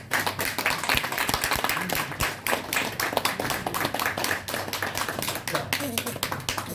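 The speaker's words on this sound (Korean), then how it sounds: "다 함께 큰 박수로." A church congregation applauding after a pastor's ordination is announced, brisk crowd clapping with sharp individual claps standing out, fairly close, with voices mixed in under the applause.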